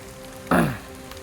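Rain patters in a forest garden, a soft steady hiss broken by one sudden louder splash that fades over a fraction of a second, no voices.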